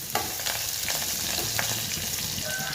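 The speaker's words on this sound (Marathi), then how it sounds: "कोथिंबीर टाकून मी थोडं परतून घेते" Coriander sautéed in oil with mustard seeds, curry leaves and cumin, a close, busy sizzle and crackle broken by quick stirring scrapes.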